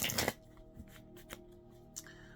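Tarot cards riffled in a quick burst of shuffling, then a quiet pause with soft clicks and slaps as single cards are drawn and laid down, close and faint, no talk.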